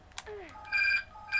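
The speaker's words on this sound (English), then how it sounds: "every time the phone rings, it reminds me that I need to unplug my phone" A house phone rings in short electronic warbling bursts, two loud rings separated by a brief gap, following a quick sliding tone and clicks.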